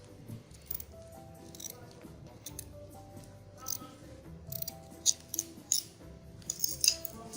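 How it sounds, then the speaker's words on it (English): Scissors cut fabric for a sewn top, with scattered snips and crisp clicks of the blades that grow sharper and more frequent toward the end, close by against a quiet room. "now the next thing I'm going to do now is to cut it out"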